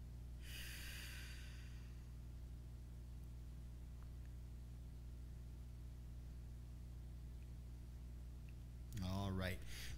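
A long slow breath drawn in during a vinyasa and yin yoga class, a soft airy inhale, then a stretch of near silence over a low steady hum before a voice begins speaking.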